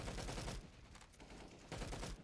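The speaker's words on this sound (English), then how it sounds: "they're both shooting him." Rapid bursts of video game gunfire from Counter-Strike at the B site on the Train map, with two players shooting one enemy. Dense volleys crackle in two clusters separated by a brief lull.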